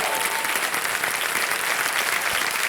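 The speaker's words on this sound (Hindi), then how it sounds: "तालियां बज जाए इनके लिए" A TV quiz show's studio audience applauds a contestant who has chosen to quit the game. The clapping is dense, loud and continuous, with no talk over it.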